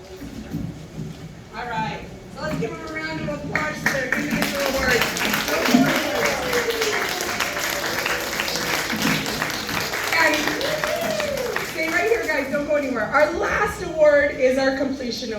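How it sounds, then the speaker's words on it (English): Audience applause for kindergarten award winners at a school graduation ceremony, a long steady wash of clapping from a crowd that swells and holds, with a voice talking over it throughout. "let's give them a round of applause for their individual awards."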